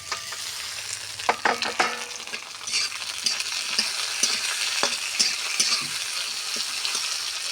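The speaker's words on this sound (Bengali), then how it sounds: "এখন দিয়ে দিচ্ছি এই যে পেঁয়াজ, রসুন, কাঁচা লঙ্কা, টমেটো" Onion, garlic, green chilli and tomato frying together in a pan for an egg and vegetable curry, a dense close sizzle broken by scraping stirs and clatters of the spatula, with no talk.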